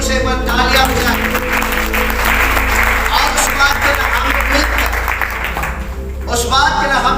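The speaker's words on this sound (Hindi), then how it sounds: "इस बात के लिए जोर से एक बार तालियां बजाएं।" A large crowd at a healing crusade breaks into loud, sustained applause that fills the hall, with a voice talking over the clapping before it fades near the end.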